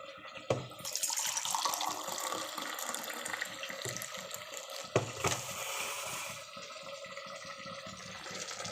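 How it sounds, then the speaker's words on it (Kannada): Hot water poured into rice in a pot for fenugreek palav, a continuous loud splashing, gurgling stream up close that eases slightly toward the end, with no talking. "ನಾನು ಬಿಸಿ ನೀರು ಹಾಕ್ಕೋತಾ ಇದ್ದೀನಿ."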